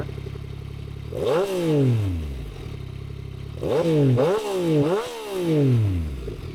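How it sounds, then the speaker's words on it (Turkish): Yamaha MT-09 motorcycle with a Tapa exhaust system, idling and then blipped in sharp revs, one single rev followed by three rapid throttle blips, loud and close with no talking. "Şimdi sizlere motorumun sesini dinleteceğim arkadaşlar."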